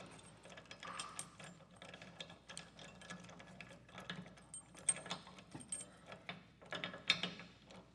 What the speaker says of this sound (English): what you can do is put it in the open position and just rotate this until it locks itself down